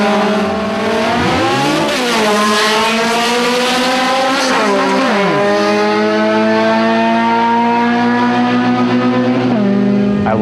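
A street race car on an elimination run in Montreal accelerates hard, its loud engine climbing in pitch through several gear changes, with rising harmonic sweeps and no talk.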